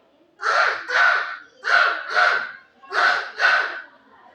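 A child imitates a crow with loud, close, hoarse caws. There are six nasal calls in three quick pairs, separated by brief gaps.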